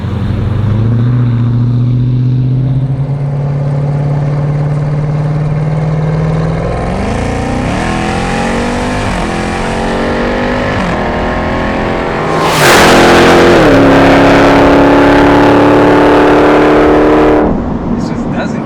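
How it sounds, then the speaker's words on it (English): A powerful 1,000-horsepower Hennessey Jeep Trackhawk engine idles, then revs hard with a roaring exhaust, climbing through gears before surging loudly again; people talk over it. "That exhaust sounds vicious, man."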